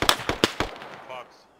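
In the tactical shooter Squad, a grenade or rocket goes off among several sharp, loud blasts in quick succession, their echo trailing off into a quieter tail.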